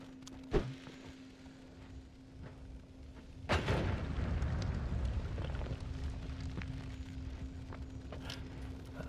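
A bomb goes off in the pixel-physics game Noita, a sudden broadband blast that rolls into a long rumbling tail over a steady game tone, preceded by a small sharp pop.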